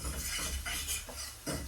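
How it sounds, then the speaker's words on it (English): An egg is being scrambled in a non-stick frying pan, with a few quiet scraping and stirring strokes of a utensil against the pan and no talking. "I'm just scrambling the egg on a non-stick frying pan."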